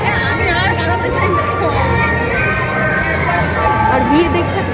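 A dense Christmas crowd fills the grounds of a church in Ranaghat, with continuous overlapping chatter and babble held at a steady, fairly loud level throughout.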